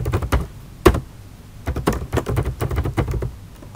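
Rapid clicky typing on a computer keyboard while entering text into an Excel spreadsheet, close and clear with uneven bursts of keystrokes and a few heavier key thumps.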